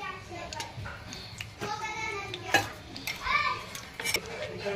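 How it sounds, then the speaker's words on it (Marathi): Onion and tomato paste sizzles in hot oil in a kadai while a spoon stirs and scrapes against the metal in uneven strokes, all under ongoing talk, including a voice. "आता याच्यामध्ये मी कांदा आणि टोमॅटोची पेस्ट टाकली आहे"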